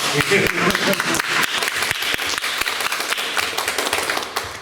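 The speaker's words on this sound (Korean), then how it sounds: "이때 박수 한번." A lecture audience bursts into a round of applause, with sharp, closely packed hand claps that are loud and near and keep a steady, busy rhythm across the whole stretch.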